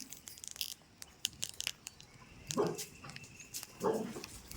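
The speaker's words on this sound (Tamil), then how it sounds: "நாய் மட்டும் கத்துச்சுன்னா" A dog barks twice, a short yelp and then a second bark about a second later, over a quiet, hissy outdoor background.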